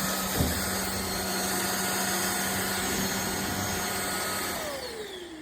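An Iirios 550W cordless self-standing vacuum cleaner running on hardwood floors, a steady close high-pitched motor whine with constant airflow hiss that winds down in pitch near the end.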